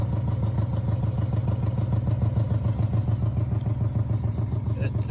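A Subaru EJ253 engine with remanufactured cylinder heads running on its first start, a steady close, pulsing idle with a faint clattery edge and no break in the sound.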